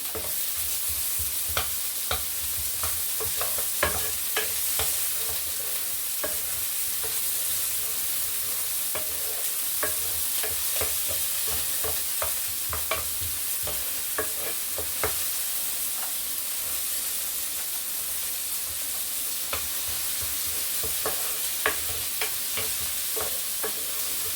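Chopped onions sizzle steadily in oil in a pan while a utensil stirs and scrapes in frequent irregular clicks, close by and with no voices.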